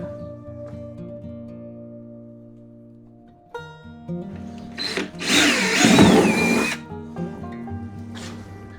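A power drill bores a drainage hole in a plastic drum, a whine starting and stopping and then a loud burst of grinding through the plastic before it winds down, with a short buzz near the end.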